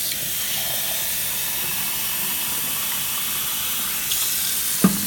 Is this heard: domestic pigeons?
no